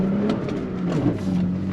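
A 2022 Toyota Tacoma TRD Pro with a 6-speed manual pulls away in first gear on throttle through sand and ruts, its engine holding a steady, close drone with a slight pitch change partway through.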